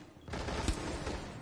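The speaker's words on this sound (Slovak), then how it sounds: "Aj Fasty sa už s ním strieľa." Video game shootout with bursts of rapid gunfire in a competitive match, dense crackling shots starting after a brief lull with one sharper crack midway.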